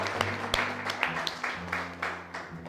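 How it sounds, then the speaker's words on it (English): Scattered audience applause at a spoken word event in a gallery, a small group clapping in a loose, uneven patter of distinct claps that stays fairly quiet and brief. "Let's give them a round of applause."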